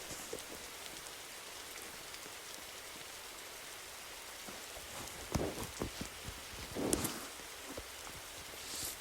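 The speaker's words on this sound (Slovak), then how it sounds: "Už strašne dlho prší" Steady rain in the Roblox game 99 Nights in the Forest hisses evenly, with a few louder splashes and patters standing out near the end.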